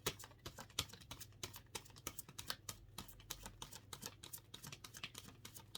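Rapid, irregular clicking and soft slaps of stiff tarot cards being shuffled up close, continuing steadily without any voices.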